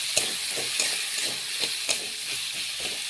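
Ginger, cumin, green chili and garlic paste with salt sizzle steadily in hot oil while being stirred, with soft regular scraping strokes running through the close, continuous frying hiss.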